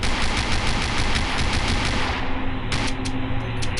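Rapid automatic gunfire from the horror video game Afraid of Monsters: DC, loud and continuous bursts of shots over a steady background, with the firing briefly thinning near the end.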